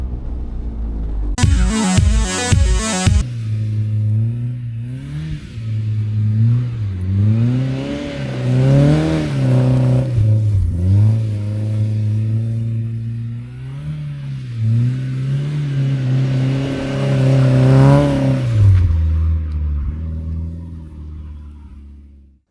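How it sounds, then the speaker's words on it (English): Out on a snowy, icy road in freezing Lapland, a car's engine revs hard and repeatedly as it spins donuts, rising and falling in pitch up close, loud and continuous without talk. "came here to do some donuts"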